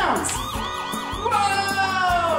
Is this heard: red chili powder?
no